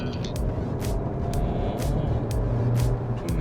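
Hyundai Avante N driving and slowing before pulling hard again, a steady close engine and road rumble running throughout, with sharp broadband bursts recurring at intervals over it.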